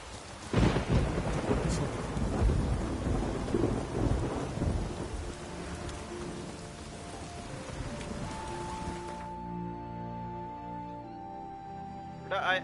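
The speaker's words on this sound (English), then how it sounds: "It's raining." Steady rain pours with deep rumbling thunder in Witcher 3: Wild Hunt, loud and dense at first, then easing as the downpour fades and leaves a quieter tail.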